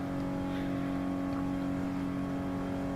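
Renault Clio mid-engine French hot hatchback in Gran Turismo Sport, a steady droning engine note held at constant revs throughout, loud and continuous with no talking.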